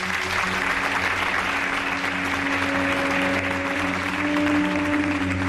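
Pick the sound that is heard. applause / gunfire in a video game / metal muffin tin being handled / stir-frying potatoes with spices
applause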